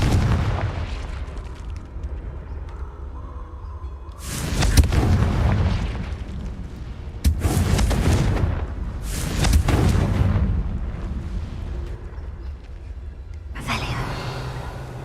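Hogwarts Legacy Confringo spell explosions go off as several heavy booming blasts, spaced a few seconds apart, over a low rumbling game background.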